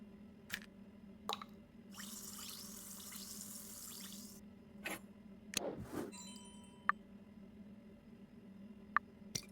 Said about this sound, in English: Now to fill it up with water and drop one of the tablets in.